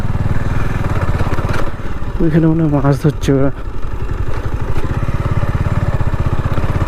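A motorcycle engine hums steadily throughout on a ride near a wetland, close by, with a person talking over it.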